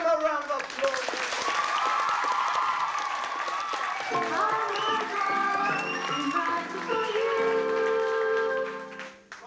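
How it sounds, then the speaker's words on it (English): A studio audience at a game show breaks into loud, sustained applause that fills most of the stretch, with musical tones playing underneath before the clapping fades away at the end. "Give them a round of applause."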